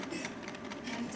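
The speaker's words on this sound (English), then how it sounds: "Come on, printer." A printer running as it prepares to print, a soft continuous mechanical whir with faint rhythmic clicking, quiet and steady.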